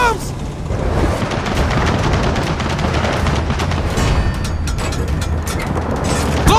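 Dense, continuous gunfire plays out during a Gears of War 4 battle, rapid shots and booms running back to back at a loud level from start to finish, with a brief voice at one point.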